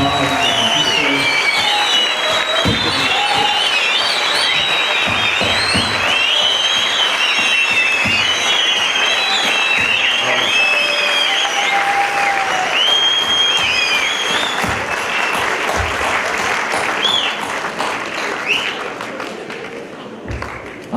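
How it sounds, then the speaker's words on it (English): Loud, sustained applause from a graduation ceremony audience honoring the teachers, dense clapping with scattered cheers and whistles, continuing for about twenty seconds before thinning slightly at the end. "I want a lengthy, warm, loud round of applause for the teachers"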